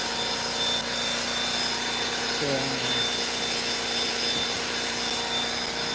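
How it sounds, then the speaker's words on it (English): A vacuum cleaner works over a car's interior during detailing, a steady close whirring drone running throughout with a brief spoken word over it. "just finished up the vacuum."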